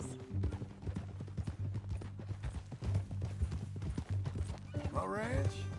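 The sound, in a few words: horse hooves and whinny, from video game Red Dead Redemption 2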